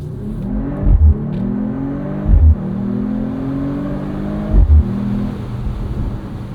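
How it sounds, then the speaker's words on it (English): The turbocharged inline-six of a 2025 Mercedes-AMG CLE 53 Cabriolet (443 hp) pulls hard through the gears, its tone rising steadily and breaking briefly at three upshifts, loud and close with no talking. "I'll shut up so you guys can listen to this Inline-6."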